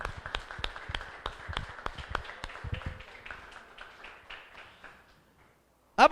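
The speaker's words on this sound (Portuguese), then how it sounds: "A ele mais uma salva de palmas" A church congregation claps in a quick, uneven burst that thins out and fades over several seconds. It is fairly faint and heard from a distance, and a short sharp sound follows the silence at the end.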